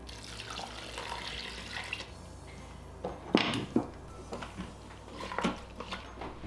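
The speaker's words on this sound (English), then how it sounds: "let's add our broth" Broth is poured into a cooking pot in a home kitchen, a soft liquid splashing and trickling with a few louder clinks and splashes midway, faint against light room background.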